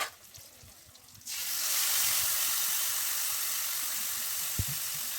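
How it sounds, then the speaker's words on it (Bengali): Bele fish poured into a hot pan of mustard-oil spice mix with fried onion, salt and turmeric: after a second of quiet, a loud, steady sizzling hiss bursts in and holds, with one soft knock near the end. "এখন ওই মাছটা ঢেলে দেবো"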